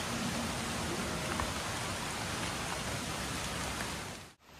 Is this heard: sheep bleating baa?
no